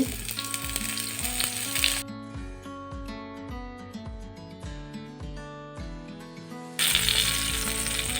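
Eggplant pieces fry in oil with a dense, close sizzle at the start and again at the end, and a melodic music passage with plucked notes fills the middle stretch.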